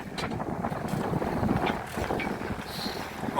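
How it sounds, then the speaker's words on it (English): Cold wind at sea blowing across the microphone aboard a boat, a steady low rushing buffet with faint creaks and splashes, no voices. "But it's a cold wind, so I will go back inside."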